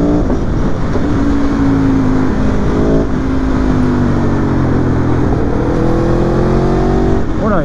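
Aprilia Tuono V4 Factory 1100 2019 motorcycle engine accelerating on the road, a loud close steady drone whose pitch rises through gears with quick shifter changes, heavy wind noise throughout and a rider speaking over it.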